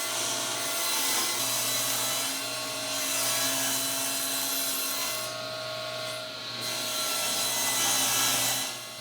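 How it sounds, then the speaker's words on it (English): Table saw trimming plywood panels to final size for a bathroom vanity cabinet, a steady loud whine with a continuous rasping cut that swells and eases slightly, close and without talk. "I took them to the table saw and I trimmed them down to final size"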